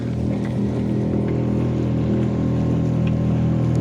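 A boat motor drones steadily on a canoe-camping trip in Quebec, a constant close hum with stable low tones and no break in its running.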